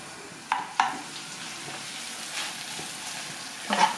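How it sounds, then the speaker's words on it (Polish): Onion frying in a pan for a hearty Polish soup, a steady faint sizzle with a few sharp stir clicks of a utensil against the pan near the start and end. "I będziemy dalej smażyć, podsmażać, uważając, żeby nam się cebula nie spaliła."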